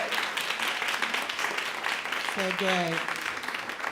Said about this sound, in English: So I would like to give a round of applause for all 5 of them.